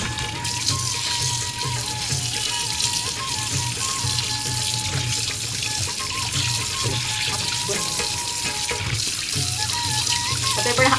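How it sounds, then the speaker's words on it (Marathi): Tap water runs under high pressure over freshly cleaned fish, a continuous loud hiss and splash that holds steady with no talking. "इथे हाय प्रेशरने पाणी मारते म्हणजे गालामध्ये कुठे चिखल अडकलेला असेल तर तो निघून जाईल"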